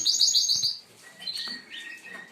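Yakuzo canaries in a breeding room chirp in bright, rapid high trills, loud at first, then thinner scattered tweets and short whistled notes follow.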